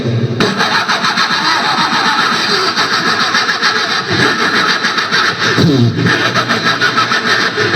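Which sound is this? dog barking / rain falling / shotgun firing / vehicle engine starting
vehicle engine starting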